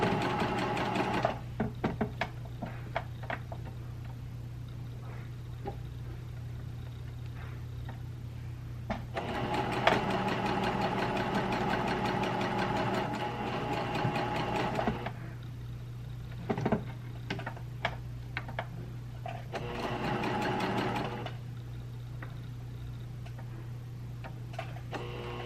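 A sewing machine stitches a quarter-inch seam on fabric for a lace-trimmed glass bra costume, running in several bursts of rapid mechanical ticking separated by pauses with small handling clicks.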